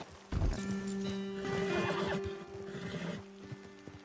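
Horses in Red Dead Redemption 2 whinny and snort up close while hooves clip-clop on the ground, with a loud neigh near the start and steady stamping after.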